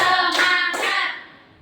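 A few sharp hand claps ring out close by, then the sound fades out.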